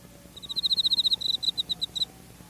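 A cricket chirps in a quick series of about a dozen sharp, bright pulses that slow and space out toward the end. The calls are clear and close against a quiet background.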